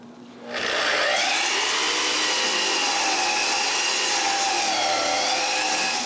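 A power saw squares a wooden workpiece for a handmade mortar, with a loud continuous whining cut that starts abruptly after a short quiet lead-in and holds steady to the end.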